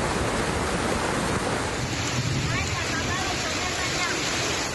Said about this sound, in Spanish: Las intensas lluvias generaron el desbordamiento de una quebrada y la carretera literalmente se convirtió en